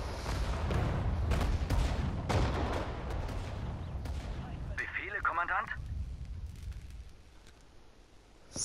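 Artillery and gunfire in Sudden Strike 4 on PS4 at the battle of Sedan: a dense run of booming impacts and shots in the first half, then a short high burst and a quieter, fading rumble.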